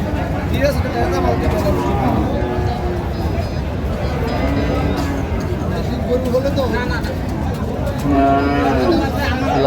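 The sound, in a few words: Sahiwal breed bull cattle mooing at market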